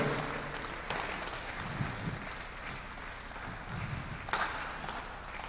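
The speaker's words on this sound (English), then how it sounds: "Let's keep clapping." An audience keeps clapping at the close of a faculty training program, a soft, continuous patter of applause with occasional louder claps and some shuffling.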